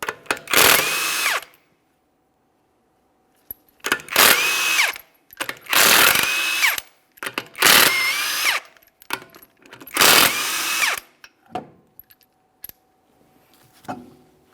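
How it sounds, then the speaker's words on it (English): Five short bursts from a power impact tool spin off 21mm lug nuts on a Mitsubishi Lancer front wheel, each loud whirring burst separated by a pause, with faint clinks and handling noise between and after. "you're going to remove all 5 of your 21mm lug nuts so we can get the wheel off of here"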